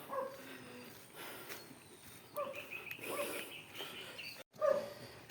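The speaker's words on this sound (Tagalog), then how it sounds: "tingnan mo yung aso niya" A dog at a house makes a few faint, short sounds that come in scattered bursts, with quiet ambient noise around them and one clear louder burst near the end.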